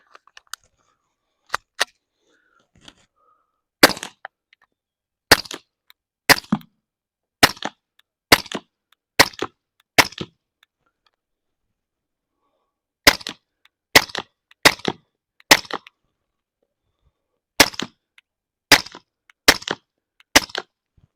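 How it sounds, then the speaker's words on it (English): A suppressed 9mm pistol, a Rugged Obsidian 9, fires 147 grain subsonic rounds at a range, giving sharp, close cracks in quick strings of several shots separated by short pauses, loud against near silence. "I'm going to run some Freedom Munitions 147 grain subsonic ammo and run it with the Rugged Obsidian 9."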